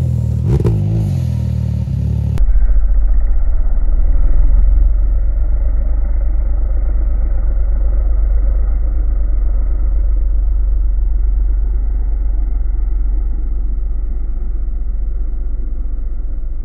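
A 200-horsepower Can-Am Maverick X3 side-by-side revs hard up close after a brief burst of noise, then holds a loud, steady engine roar for the rest of the stretch.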